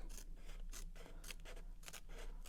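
Scissors trimming a paper craft piece, several quick close snips in a row, crisp and quiet with no talk.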